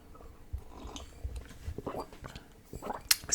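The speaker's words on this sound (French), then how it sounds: "je fais exprès de faire un peu de son de bouche en même temps" Close, deliberate eating mouth sounds: soft wet chewing, smacks and small crunchy bites come in irregular bursts, building to a sharper click near the end, with no speech.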